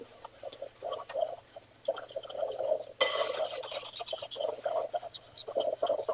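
Muffin batter being stirred in a bowl, quick scraping rubs in uneven bursts with a brighter, grittier stretch midway, close and alone.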